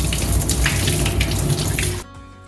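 Tap water runs steadily into a sink while soaked lentils and poha are rinsed, a loud continuous splashing rush that cuts off abruptly near the end, leaving quiet.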